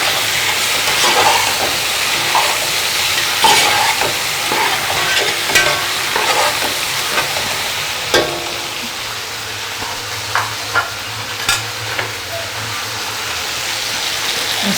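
Tomato and onion sizzle steadily in a frying pan while a utensil stirs them, with scattered scraping clicks against the pan, close and alone without talk.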